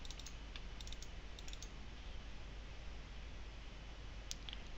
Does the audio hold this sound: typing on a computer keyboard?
yes